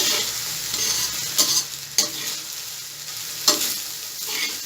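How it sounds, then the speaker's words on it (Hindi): Chicken fried rice with egg and vegetables is stirred in a hot pan, with a constant close sizzle and a few sharp scrapes and knocks of a spatula against the metal. No one speaks. "बस थोड़ा सा हम स्टिर करेंगे और ये हमारे फ्राइड राइस माशाल्लाह तैयार हैं।"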